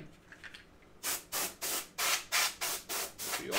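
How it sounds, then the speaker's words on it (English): A can of compressed air dusts off a Silicon Graphics O2+ desktop workstation in about eight short, loud, evenly spaced bursts of hissing spray after a quieter opening. "We'll give it a spray."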